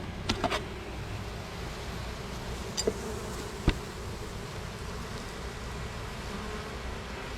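Steady low hum of honey bees buzzing around a hive, with a few sharp clicks and knocks from handling equipment scattered through.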